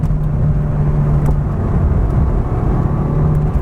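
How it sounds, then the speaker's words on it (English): A 1990 Mitsubishi Eclipse GSX downshifts heading into a corner, its engine a steady, loud, close drone with low rumble throughout and no talking. "There's a nice downshift coming into a corner."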